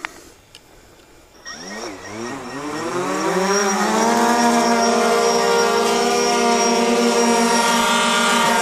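Drone motors spin up from silence after a few clicks, rising in pitch to a loud, steady, whining buzz that holds close by without any speech.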